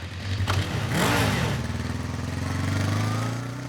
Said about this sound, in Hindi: सर बाइक रेडी है।